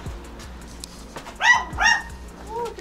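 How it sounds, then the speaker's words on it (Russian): A small dog yips and whimpers twice in quick succession near a house boiler room, with high, strained barks over a low background hum. "Там собачка ругается."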